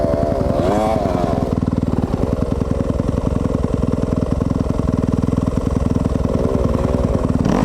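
A 2020 Yamaha YZ250FX four-stroke dirt bike engine runs steadily and loudly up close, a continuous rapid thumping idle throughout, with a brief voice heard near the start.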